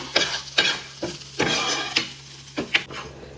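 Chicken fries in a pan and is stirred. A utensil scrapes in repeated rhythmic strokes, close up, over a steady sizzle.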